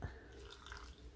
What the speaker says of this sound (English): And then we use our second cup as a rinse water. So we just dip, dip,